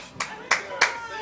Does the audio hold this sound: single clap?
yes